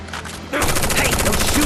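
Gunfire in a Final Fantasy VII Remake cutscene erupts after a quieter half-second and becomes a dense, continuous burst of rapid shots, loud and close, with a voice faintly mixed in.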